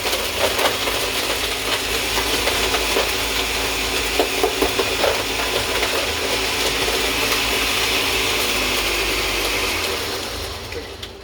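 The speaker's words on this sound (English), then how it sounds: "I'm using a Ninja blender, wonderful blender." A Ninja blender runs steadily for about ten seconds, a dense, loud whirring grind as it crushes ice, then winds down near the end.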